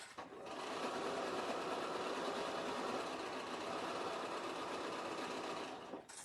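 A Bernina sewing machine runs continuously, perforating paper for paper piecing with a fast, even mechanical whir and needle chatter that starts, holds steady, and stops.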